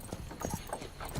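Horse hooves clip-clop at a steady walking rhythm, several distinct hoof strikes close by at moderate volume with no talking.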